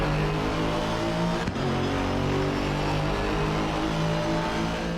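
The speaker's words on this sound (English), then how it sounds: "I forget to talk when I'm listening to the engine sounds of this car" A GT4 race car engine in the video game Assetto Corsa Competizione roars loudly and continuously, a dense steady drone with a brief dip partway through, with no voices.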